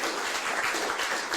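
Audience applause welcoming a guest onto a discussion podium in Amsterdam, a steady, dense wash of clapping that fills the room evenly for a brief moment with no voices above it.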